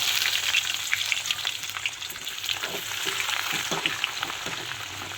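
Grated onion frying in a pan for mango rice, a continuous close crackling sizzle with faint stirring scrapes throughout.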